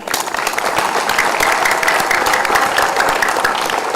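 An audience at a Scout Day ceremony in Tegal applauds for award recipients, a loud, dense and steady round of clapping that carries on without pause.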